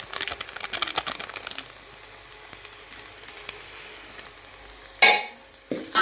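Mutton curry masala is stirred in a pan with a spatula, producing scraping and sizzling in the opening seconds, then a quieter, softer sizzle, and two sharp, louder scrapes near the end.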